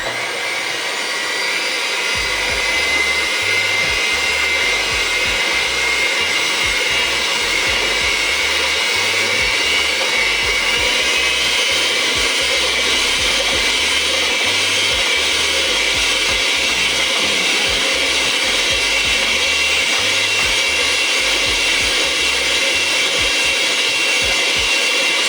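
An electric mixer on a low setting beats egg yolks for a lemon icebox pie, giving a steady, continuous motor whir at even loudness throughout, with no talking.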